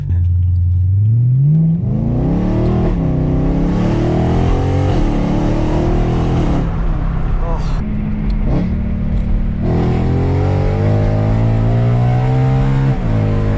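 Modded E92 BMW M3 engine revs hard under acceleration, pitch climbing steadily through the gears with brief dips at shifts, loud and close from inside the car, with excited voices over it.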